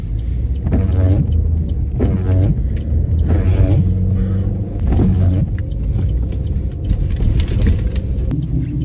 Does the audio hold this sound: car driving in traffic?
yes